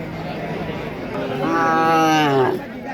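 Cattle at a weekly village market give a loud, drawn-out moo lasting about a second, rising over a steady background of crowd chatter and market noise.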